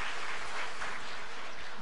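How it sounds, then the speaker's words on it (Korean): A church congregation applauds the choir, a brief, dense burst of clapping from many hands heard at a moderate distance. "우리 찬양대원들 격려의 박수 한번 하겠습니다."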